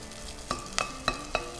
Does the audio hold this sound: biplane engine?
no